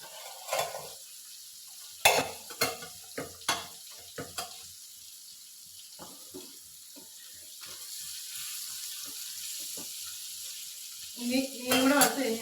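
Beetroot stir-fries in a pan as a Kerala mezhukkupuratti, with sharp, intermittent spatula scrapes and knocks over a low sizzle, building to busier stirring at the end.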